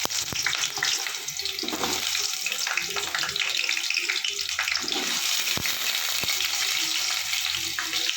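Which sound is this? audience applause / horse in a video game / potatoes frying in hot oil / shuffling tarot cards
potatoes frying in hot oil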